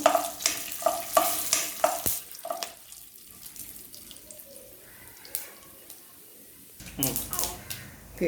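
Mustard seeds and urad dal splutter in hot oil for a semiya breakfast. Sharp crackling pops come close and loud in the first couple of seconds, then a quieter, steady sizzle continues with a few scattered pops.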